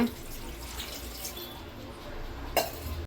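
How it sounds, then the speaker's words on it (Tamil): Water pours steadily into an idli steaming pot with a soft, continuous splashing rush, close by, ending with a brief clink. "தண்ணி ஊற்றிக்கோங்க, தேவையான அளவுக்கு ஊற்றிக்கோங்க."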